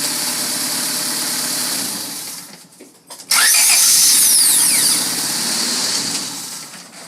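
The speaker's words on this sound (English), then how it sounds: "Just wanted to give you guys another little example of how it sounds after you buy your brand new starter." A 1996 Honda Civic engine fitted with a new starter: a steady running tone first cuts out, then the starter cranks briefly, and the engine catches into a loud, even idle that settles down, with no talking.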